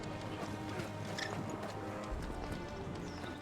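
A chocobo steed in Final Fantasy 16 trots with steady, quick clip-clop footfalls at moderate distance, layered over a constant game ambience with faint chirps.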